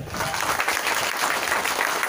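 Loud, dense applause from a crowd of schoolchildren at a school stage event, a steady wash of clapping filling the whole moment with no talk over it.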